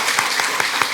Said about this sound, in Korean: 박수로 한번 환영 한번 할까요?